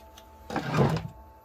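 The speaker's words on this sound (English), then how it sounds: "use the Stick Fast, the activator, and just give it a spray" A single short hiss of Stick Fast activator sprayed onto glue, lasting about half a second, close and fairly loud against a quiet background.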